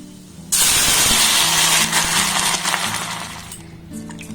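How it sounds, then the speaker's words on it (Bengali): Water poured into hot oil with dried chili and five-spice, for a raw mango dish, sets off a sudden loud, close sizzling hiss that holds for a few seconds and then gradually dies down. "এবার এখানে আমি জল দিয়ে দেব"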